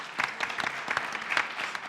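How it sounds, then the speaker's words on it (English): A small audience at a crypto panel event gives a brief, quiet round of applause, scattered individual claps heard at some distance. "a little round of applause for Vladi for organizing"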